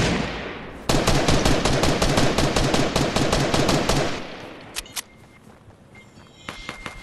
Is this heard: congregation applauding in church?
no